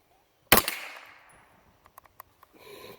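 A single sharp gunshot from a Frankland Armory 10/22 rifle firing semi-automatic cracks out loud and close, followed by a decaying ring and a few small metallic clicks and taps.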